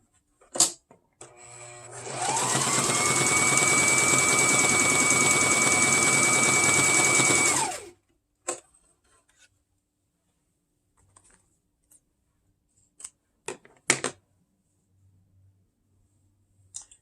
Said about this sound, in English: then I'll cross over and then resume my stitching